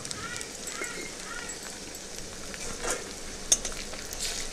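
Garlic and ginger paste fries in a pan while being stirred, a faint sizzle with soft scraping and a few light clinks of a utensil, quiet and close.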